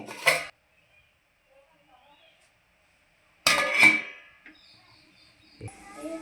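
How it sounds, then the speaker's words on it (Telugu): A metal lid set back onto a cooking pot of brinjal milk curry: a short clatter, then after a pause a louder metallic clank with a brief ringing tone, followed by faint kitchen sounds. "మళ్ళీ మూత పెట్టేసుకుందాము"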